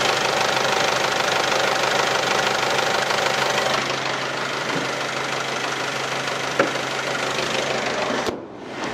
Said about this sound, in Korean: 엔진 소리 우렁차게 힘 좋은 소리 그대로 느껴집니다